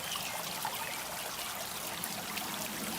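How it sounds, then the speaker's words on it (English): Water trickles and splashes from a Cornerstone stack rock birdbath fountain, a constant soft, bright babbling that stays even throughout, close and fairly quiet with no voices. "I kind of like the way that the water ripples when it comes out."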